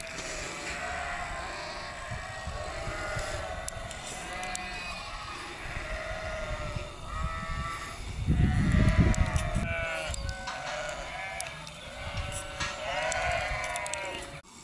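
Many sheep bleat over and over in a noisy, overlapping chorus in a Rhondda town, with a louder rumbling stretch in the middle and no talking.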